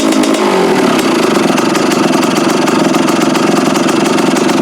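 A Kawasaki KX 125 two-stroke motorcycle engine runs steadily on its first fire-up after installation, a loud, close, continuous buzzing idle with little throttle change and no talking.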